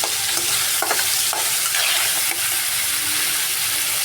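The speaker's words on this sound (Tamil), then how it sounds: "நல்லா சிம்மில் வச்சுக்கிட்டு ஒரு 2 நிமிஷம் வதக்கி விட்டுருங்க நல்லா" Tomatoes being stirred and sautéed in a pan, a loud continuous sizzle with a few soft spatula scrapes and taps, close and with no voices.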